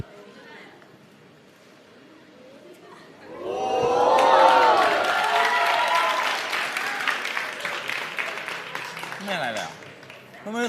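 An audience at a Thai comedy show breaks into loud applause and cheering that swells after a quiet start and holds for several seconds, with voices talking and laughing over the clapping.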